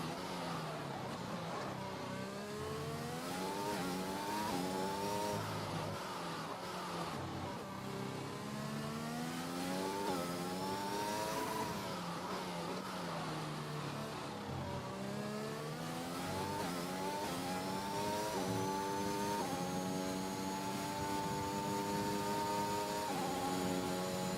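Formula 1 car on a hot lap at the USA Grand Prix in F1 2021, its engine wailing loud and continuous as it climbs and drops through gear changes along the back straight, steady throughout without talk.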